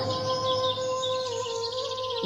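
Faint, high chirping bird calls over a quiet background with a steady low tone, heard alone without any talking.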